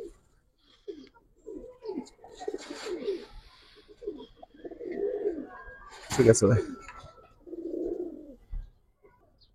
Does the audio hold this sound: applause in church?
no